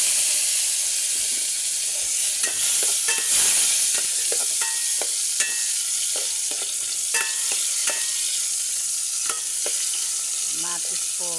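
Onion, tomato and garlic sautéing in a pan: a steady loud sizzle and hiss close by, broken by scattered clicks and scrapes of stirring.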